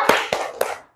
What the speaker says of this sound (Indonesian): Tepuk jempol untuk dia.